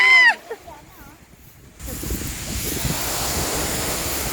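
Strong ocean surf roars continuously with wind buffeting the microphone at Puerto Galera, following a brief moment of a voice and quiet at the start.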